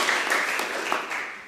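Brief burst of audience applause at a mayor's news conference, a steady close patter of clapping hands that fades slightly toward the end.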